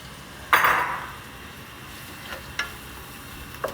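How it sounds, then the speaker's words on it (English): Spice paste for a Mauritian chicken curry simmering in a pan: a clattering knock of a utensil on the pan, then a soft, steady sizzle with a couple of light taps. "I let it simmer for about 30 seconds because you don't want to burn your spices"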